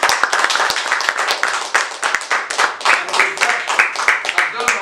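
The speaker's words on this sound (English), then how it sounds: "Please, give him a round of applause" An audience at a foundation's official launch event claps in a round of applause, with dense sharp hand claps close by and a voice talking over them.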